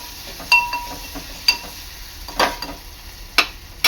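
Onions being fried in a pan until browned for a raw tomato bharit. Sharp spatula clinks and scrapes against the pan repeat every second or so over a faint, steady background sizzle.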